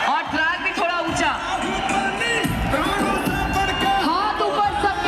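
Crowd cheering, clapping and whooping under loud amplified music at an indoor wellness company event, continuous and energetic throughout.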